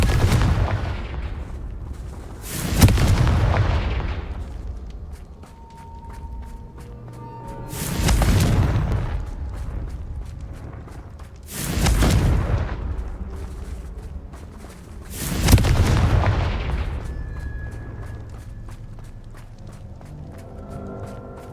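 Confringo blasting spells exploding in Hogwarts Legacy: four heavy booms spaced several seconds apart, each a sharp loud burst that rumbles away, with fainter footsteps and game ambience in between.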